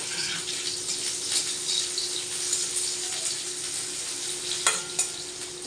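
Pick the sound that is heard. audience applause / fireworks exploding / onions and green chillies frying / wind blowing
onions and green chillies frying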